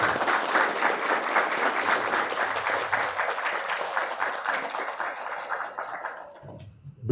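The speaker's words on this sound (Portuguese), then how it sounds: "Eu peço uma salva de palmas à professora Edneia Mascarenhas Dias." An audience at a university lecture event applauds a professor with sustained, dense clapping that fades out near the end and leaves a brief quiet moment.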